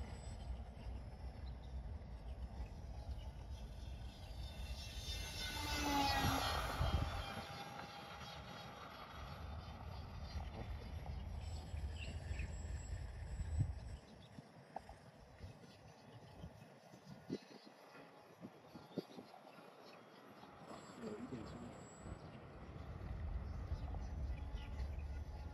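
An XFLY P68 Twin, an 850 mm wingspan twin-engine RC model airplane, makes a low pass, its motor drone rising and sweeping by overhead before it fades, with talk at times and outdoor wind underneath.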